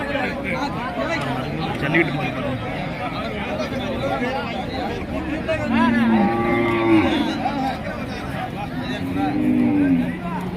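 Cattle moo repeatedly at a large open-air cow market in Manapparai, over a steady hubbub of crowd chatter. Several drawn-out moos rise above the babble from mid-distance, and people talk throughout.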